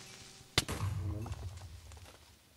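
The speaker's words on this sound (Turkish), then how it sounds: "Creeper mi patladı?" A sudden sharp Minecraft creeper explosion bursts out at close range, followed by a brief rumbling tail and some faint clattering.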